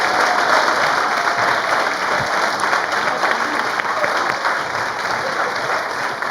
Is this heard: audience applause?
yes